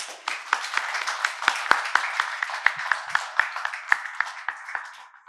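An audience claps to welcome two dignitaries at a UGC NET 2023 felicitation ceremony: a steady run of sharp, fairly sparse hand claps, close and clear, with no talk over it.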